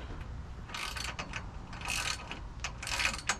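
A bolt being tightened on a sawmill log handling system, with quiet close ratcheting clicks in short repeated strokes against low background noise.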